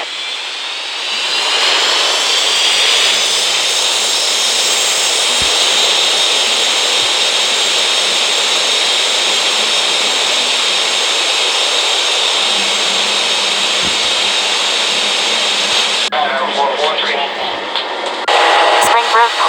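A jet aircraft takes off, a loud, sustained roaring rush of engine noise that builds quickly and holds steady, with a radio-like voice cutting in near the end.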